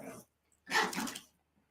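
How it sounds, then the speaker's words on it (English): Dogs bark nearby in one short, loud burst that lasts under a second, with quiet gaps before and after. "My doggies are over there."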